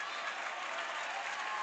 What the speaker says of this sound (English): So this crowd is urging on Race Thompson.